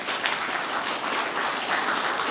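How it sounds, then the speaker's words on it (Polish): An audience at a charity choir concert in a sanatorium claps, a continuous, even wash of applause at moderate volume with no pauses, with no talk over it. "Wielkie brawa."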